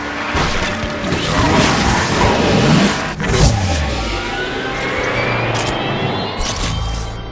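Racing car drifting in the video game Asphalt 9, a sustained engine roar with tire and mechanical noise, a sharp crash-like hit near the middle, then steady driving sound continuing loudly to the end.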